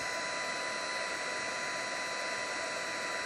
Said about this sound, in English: takes a second to heat this up. It's in our heat gun. Okay, so now it's starting to melt that embossing powder.